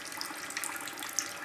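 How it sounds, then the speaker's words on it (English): Water running steadily into the outer tube of a steel reflux alcohol still, a continuous bright splashing hiss with small bubbling pops, close and alone. "this portion of the steel is getting filled up with water"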